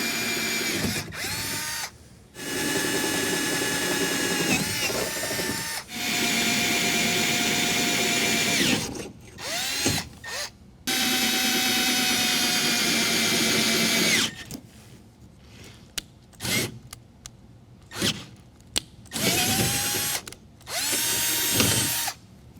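Power drill boring holes while installing a truck bed toolbox on a 2022 Toyota Tundra, close and loud, running in several sustained bursts with pitch shifts and short stops between them.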